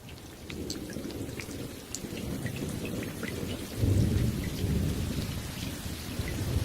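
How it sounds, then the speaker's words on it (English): Heavy rain pours down in a steady, dense hiss, with a low rumble of thunder that swells and grows louder about halfway through. "This happens every time a raindrop hits a puddle."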